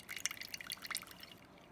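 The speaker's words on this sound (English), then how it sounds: "Just pouring slowly at first, that rich green liquid coming out." Herbal green smoothie liquid strained and poured slowly, giving quick light drips and trickles for about a second before fading to near quiet, soft and close.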